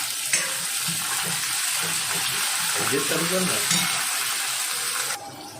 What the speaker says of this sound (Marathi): टॅमॅटो आपला थोडासा नरम होईल व्यवस्थित परतून घ्यायचं आहे